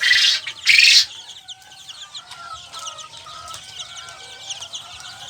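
Young chickens flap their wings in two loud, close bursts, then several birds cheep and chirp steadily near the mic.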